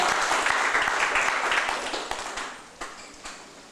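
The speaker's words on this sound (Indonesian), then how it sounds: "Kami sambut dengan tepuk tangan yang meriah untuk sambutan keluarga" Wedding reception guests at Sindang Reret restaurant in Bandung clap for the family, a lively burst of applause that thins out into a few scattered claps near the end.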